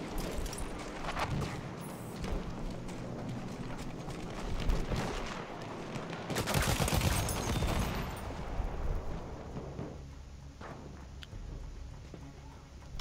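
Gunfire and booming shots in Battlefield 1, a sniper firing from ruins on the St Quentin Scar map during a Conquest match, crack out as repeated loud bursts with a dense cluster midway, over a rumbling battlefield background.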